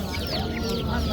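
Black hens clucking at an outdoor poultry market in Mingbuloq, close and steady amid a dense crowd murmur and background chatter.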